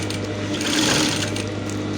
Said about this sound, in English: So I'm just sewing on the seam line that I already have there